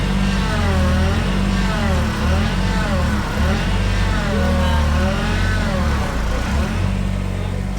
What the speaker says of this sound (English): you can hear the engine going up and down as I push on the pedal